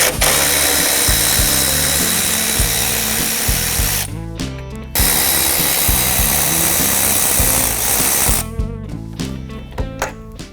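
Power tool whirring in steady bursts to remove two 8mm bolts from the grille trim of a 2024 Ford Ranger Raptor, loud and close, with two brief ratcheting pauses between runs.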